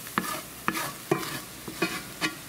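Food stirred in a frying pan: five distinct scrapes and clinks at a steady rhythm over a quiet background sizzle, close and clear with no voices.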